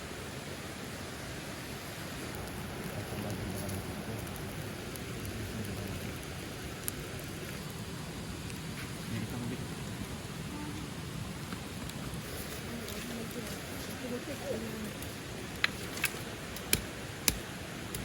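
Steady rain falls at a riverside campsite at Sungai Pertak, Kuala Kubu, making a dense, even hiss of drops with a few sharper taps near the end and no talk.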